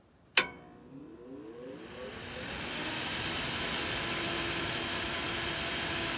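A $15 replacement cooling fan mounted on spacers inside a cheap arc welder switches on with a sharp click and spins up into a steady, close, whooshing airflow hum that holds evenly to the end.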